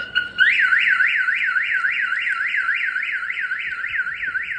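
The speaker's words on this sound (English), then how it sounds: "your alarm's gonna sound off" A Viper 5908v alarm installed in a Toyota 4Runner wails loud and close, a steady rapid up-down siren sweep repeating without pause, with no voices.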